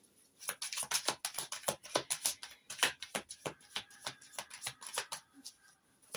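Tarot cards shuffled steadily by hand for a reading, a rapid run of crisp, close riffling flutters and slaps continuing throughout with no voice.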